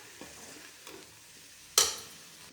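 Ground spices sauté in a pan for prawn curry, giving a soft, faint sizzle with a few light stirring scrapes, then one sharp, louder sizzling burst near the end that fades out slowly.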